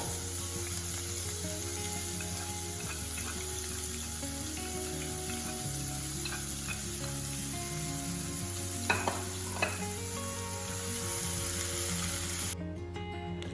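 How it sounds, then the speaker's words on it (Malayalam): Finely chopped onion sizzles steadily in hot oil with cumin seeds and asafoetida powder for a potato fry masala, a constant close frying hiss with a couple of brief stir clicks near the end. "ഒരു ഉള്ളി ചെറുതായി അരിഞ്ഞതും കൂടെ ചേർത്ത് കൊടുക്കാം"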